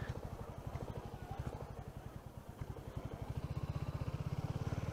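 A Royal Enfield Classic 350 Dark Stealth, 2023 model, idles steadily nearby with a low, even single-cylinder thump, the pulses growing firmer and louder toward the end, with no one speaking.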